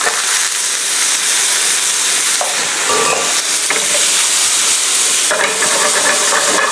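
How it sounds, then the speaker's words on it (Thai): Pasta hits a very hot pan already holding bacon and rosemary and is stirred, a loud continuous sizzle and hiss with scraping stirs throughout and no talking. "ตอนนี้ผมรีบไฟลงมาหน่อยแล้วมันร้อนจัด โอเคผมลงเส้นพาสต้าลงมาเลยคุณผู้ชม"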